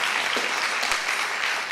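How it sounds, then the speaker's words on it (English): Dense, steady applause from a gala fundraising audience, the 2017 BSCO Fund Raising Gala, fills the space evenly for a couple of seconds with no break, loud and close. "That's right, that's worth a round of applause."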